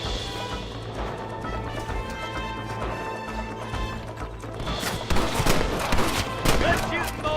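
Repeated gunshots in the Western action game Red Dead Redemption, sharp cracks that start scattered and grow louder and more frantic in the second half, mixed with game voices and clatter.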